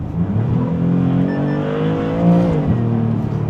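A Maserati MC20 Cielo engine revs loudly nearby in Corsa mode with exhaust flaps fully open, its deep exhaust note rising in pitch then dropping back to a rumbling idle.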